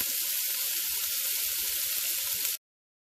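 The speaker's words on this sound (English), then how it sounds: "I'm just sauteing them in butter" Vegetables and carrots sauté in butter for an Irish coddle stew, giving a steady, dense sizzle that holds evenly at close range and then cuts off abruptly, with no voices.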